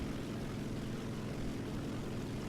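Ki-100 propeller fighter engine in War Thunder, a loud, steady droning roar with a throbbing low hum that runs unbroken from start to finish.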